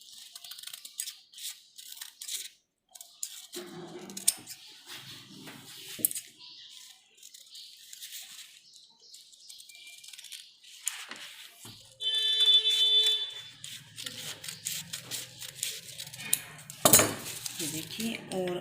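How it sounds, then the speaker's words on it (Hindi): Scissors snipping through school uniform fabric during tailoring, a run of crisp, scattered cutting clicks and rustles at close range, with louder handling and a faint tonal whine partway through. "अब हम इसकी कटिंग करते हैं।"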